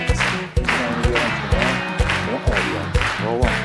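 Clapping for a young child at a family show, a rhythmic series of claps under loud, continuous talk and voices, close and fairly strong throughout.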